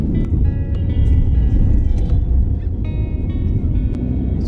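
Road traffic on a city road near Mathura during the morning school rush, heading toward the Jaipur highway, heard as a steady low rumble of passing cars with a few faint higher tones from horns or engines.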